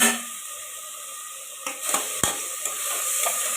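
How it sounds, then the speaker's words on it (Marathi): Dal khichdi ingredients with chilli masala, turmeric and Kashmiri powder sauté in a pressure cooker, a soft steady sizzle broken by a few close scrapes and knocks of a stirring spoon. "चांगलं परतून घेतलेलं आहे."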